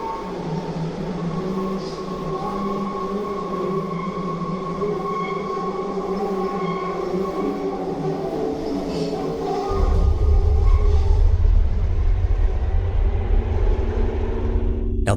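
A train rushes through a station without stopping, a loud steady roar with rumbling wheels that surges even louder and deeper near the end, with no talk over it.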